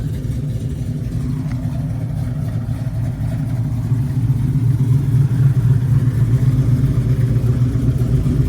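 A 1967 Chevrolet Chevelle's engine runs nearby with a low, rumbling drone that builds slightly louder in the second half, steady and free of talk.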